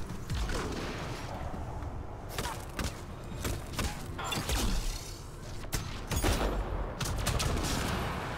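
Gunfire in a Mass Effect Andromeda firefight, scattered sharp shots and thuds spread irregularly across the moment amid busy combat noise, with occasional speech.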